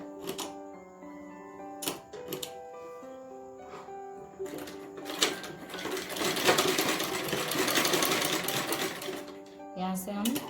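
A sewing machine runs a straight stitch along a salwar belt seam, leaving a one-inch gap in the middle. The motor buzzes steadily and fairly loud for several seconds, with a few short starts and stops and sustained tonal background sound.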